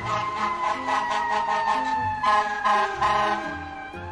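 A loud fire truck siren wailing with steady harmonic tones over a pulsing musical backing, filling the whole stretch without pause.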